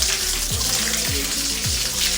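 Water flows and gushes out steadily at close range, a continuous rushing wash with faint low tones, alone without talk.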